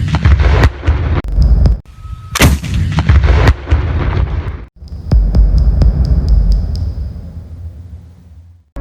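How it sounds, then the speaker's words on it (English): Incoming Ukrainian artillery fire lands in a series of sharp, loud blasts and thumps with brief ringing tails, followed by a deep rumbling roar that slowly fades. "there's the sharp sound of incoming Ukrainian artillery"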